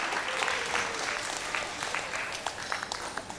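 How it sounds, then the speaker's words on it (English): A studio audience at a televised vocal competition show in Papua New Guinea claps continuously, with dense steady applause and a few sharper individual claps standing out toward the end. "Round of applause for Ella Motors, the sponsors of the grand prize"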